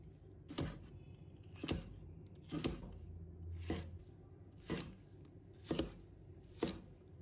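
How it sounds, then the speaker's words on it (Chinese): A knife chopping green and red peppers into diamond-shaped pieces on a cutting board, seven distinct knocks spaced about a second apart, close and clear. "再准备青红椒，把它切成菱形片。"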